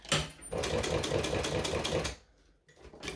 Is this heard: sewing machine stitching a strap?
yes